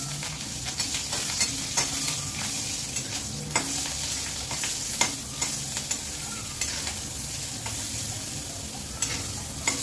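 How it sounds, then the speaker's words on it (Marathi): Green chillies fry in a little hot oil, giving a steady close crackling sizzle with scattered sharp pops and spatters throughout, and no voices. "हे बघा मिरच्या अशा तळून घेऊया."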